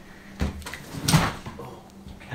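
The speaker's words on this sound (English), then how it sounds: "Yo, the door just opened." An old door creaks and bumps open inside a dim house library, two soft knocks a moment apart with a faint hiss of movement, heard close in an otherwise quiet room.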